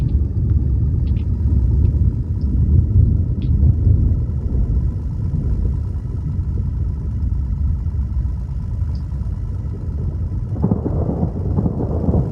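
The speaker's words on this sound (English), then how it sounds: "This thunder is crazy." Deep thunder rolls on and on during a severe storm chase, a loud low rumble filling the air with no break.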